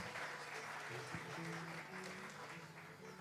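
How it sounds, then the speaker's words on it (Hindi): Audience clapping at a music evening at a gymkhana, a steady wash of applause with faint tonal music or voice traces underneath, fairly quiet overall. "जोरदार तालियां आलोक जी के लिए"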